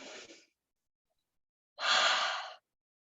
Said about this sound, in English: So let's all take another deep breath and refocus.